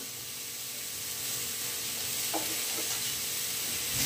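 Onion being stirred and dry-roasted in a pan without oil, a steady soft hiss and scraping throughout with a couple of brief clicks of the spoon near the end, close and moderately quiet.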